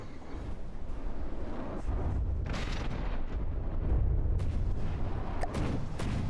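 CRAM cannons in the From the Depths combat game fire in heavy, continuous rumbling booms, a dense roar of artillery with sharper cracks near the end, loud and unbroken with no talk.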